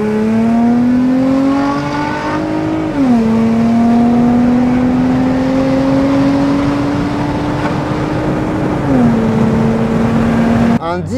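A Nissan Skyline 350GT V6 engine pulls steadily under acceleration from inside the car, its rising drone holding loud and smooth, with gear changes that briefly drop the pitch before it climbs again.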